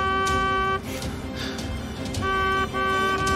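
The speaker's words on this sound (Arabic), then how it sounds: "زمر له زمر له" A boat horn honking at sea in a dubbed drama, two sustained blasts with a short break between them, loud and clear over faint background noise.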